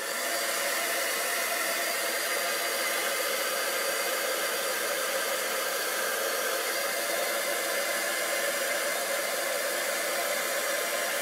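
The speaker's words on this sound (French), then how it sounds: "je vais prendre mon fer embossé pour sécher. OK, ça va faire un petit peu de bruit" A handheld heat embossing tool blows hot air across paper to dry it, producing a constant, even whooshing hiss like a small hair dryer that runs without a break throughout.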